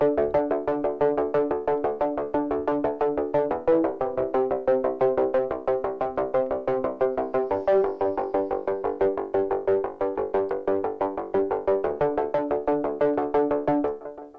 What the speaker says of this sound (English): And then I added an arpeggiator.